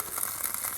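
A homemade soda-can alcohol stove burns with a steady, close hiss and a faint sizzle, likely from leftover soda residue cooking off, continuing without pause or voices.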